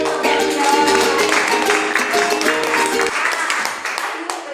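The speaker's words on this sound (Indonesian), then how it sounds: "Beri aplaus buat yang sudah menjawab" A group gives applause for the people who answered. Steady clapping holds for about three seconds, loud and close, mixed with voices, then tapers under continued chatter.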